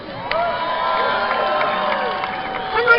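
A crowd at a Renaissance festival cheers for jousting, a sustained mix of shouts and whoops with a swell near the end.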